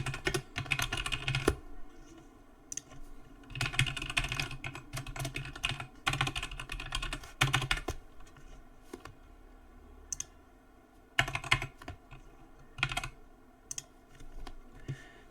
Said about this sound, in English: you want to type the name of your client